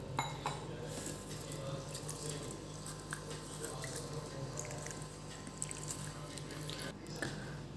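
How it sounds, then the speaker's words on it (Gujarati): Water sloshes and swishes in a metal pot as split mung lentils are rinsed by hand, with occasional light clinks against the vessel. "એને સારી રીતે આપણે 2-3 પાણીથી ધોઈ કાઢીશું."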